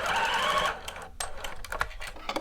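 A sewing machine stitches bodice seams in a short loud whirring run, then stops, followed by a few light clicks and taps from handling the machine.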